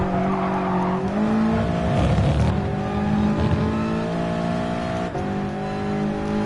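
Subaru BRZ with a boxer engine in Gran Turismo Sport, racing hard: a steady, loud engine drone with shifting harmonic pitch as it revs and shifts, with brief tire squeal hints, continuous throughout.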